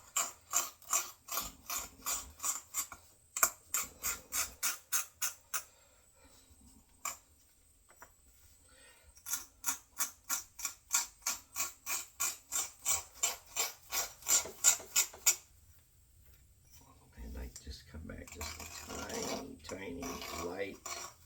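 A knapping tool chips and rasps the serrations off the edge of a stone knife blade in quick bursts of sharp, rhythmic scraping clicks, close up, separated by short pauses.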